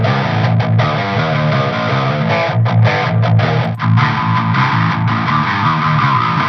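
Loud electric guitar run through an SD1 overdrive pedal into a Linux amp simulator, playing heavy distorted chords and riffs with short breaks between strums, with no talking.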